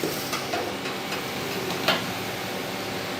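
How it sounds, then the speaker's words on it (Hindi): Beef roast frying in oil, with a steady close sizzle throughout and a few soft clicks and scrapes as it is turned. "ये हमारी रोस्ट काफ़ी हद तक फ्राई हो चुका है। अब हम इसकी साइड चेंज करते हैं।"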